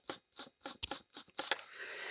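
Bristles of a medium-stiff red brush roll from a Prolux EBK250 power nozzle being rubbed, six or so quick, close scratchy strokes in a steady rhythm, then a brief rustling trail.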